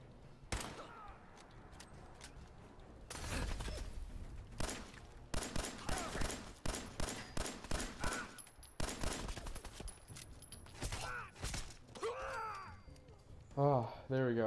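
Rifle fire in Fallout 4, with several sharp, loud broadband shots and bursts spread across the clip, some rapid and clustered, over a background of game ambience and scattered thuds.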